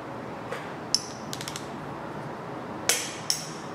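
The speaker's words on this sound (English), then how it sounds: "So here's my 75 foot-pound torque wrench," Sharp metallic clicks from a 75 foot-pound torque wrench tightening cylinder head bolts on a Chevrolet 454 big block: a single click, a few light ticks, then two more clear clicks close together, with no voices.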